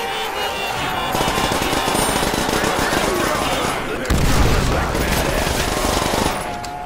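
Rapid, continuous gunfire from an M1 Garand rifle and other weapons in a Call of Duty custom zombies game, dense and loud throughout with a brief surge midway.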